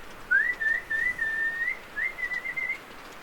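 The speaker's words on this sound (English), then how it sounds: "When you whistled, he heard you." A person whistles outdoors in the Canadian Rockies to catch an animal's attention, two long, clear, wavering tonal phrases with a short gap between them and no talk.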